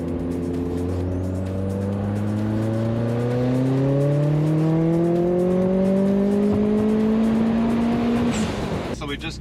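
Turbocharged Mazda Miata engine pulling hard at full throttle from low revs, a loud close-up drone whose pitch climbs steadily over several seconds before cutting off abruptly near the end.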